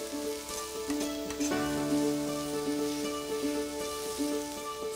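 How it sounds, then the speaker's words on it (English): Mushrooms sizzle and crackle steadily on a hot barbecue grill, with a faint tonal hum and scattered pops throughout. "you can hear, like the sizzle is real"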